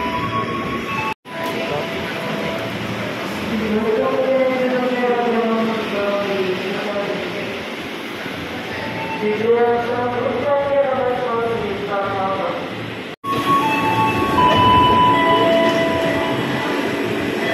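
A commuter train rumbles through Sudirman KRL station in Jakarta with steady mechanical noise and rising and falling whine of motors, while people talk nearby over the din.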